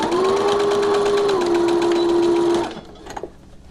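A sewing machine stitches elastic onto a cloth face mask, a loud, fast, even whirring run of close stitches lasting a few seconds before stopping, followed by a couple of small clicks and handling sounds.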